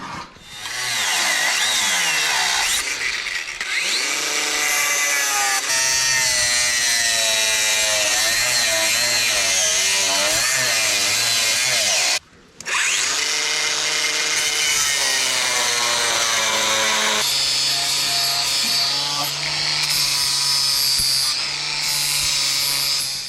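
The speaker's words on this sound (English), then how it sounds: "I'll go get my grinder, my goggles, and we'll go cut these up" An angle grinder cutting metal on a farm, a loud sustained whine that rises and falls as the disc bites, with one brief break before it starts up again, close and alone.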